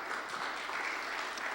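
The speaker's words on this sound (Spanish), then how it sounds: "Denle un fuerte aplauso al Señor." A church congregation applauds during a sermon, a soft and fairly distant wash of steady clapping that holds at an even level throughout.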